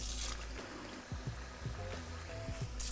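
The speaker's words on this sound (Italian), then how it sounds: "Gli blocco la cottura versandoci subito l'acqua fredda." Cold water poured over freshly cooked pasta in a home kitchen, a soft splashing trickle with small clinks and knocks, fairly quiet and close.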